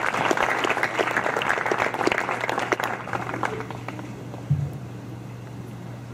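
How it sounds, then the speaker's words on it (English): Applause from a scholarship banquet audience, a loud sustained round of clapping that tapers off into scattered claps over a steady low hum in the room. "I definitely think that Ana and Jessica deserve another round of applause for coming"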